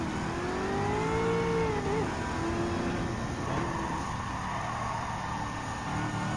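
Race car engines in Gran Turismo 7 on the Trial Mountain circuit, a loud close engine whining and rising in pitch before dropping off, with other cars droning underneath.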